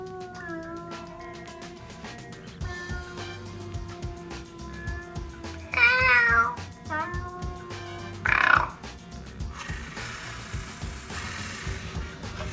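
A cat meows and yowls in short, loud bursts over steady background music, with a noisy hissing wash near the end.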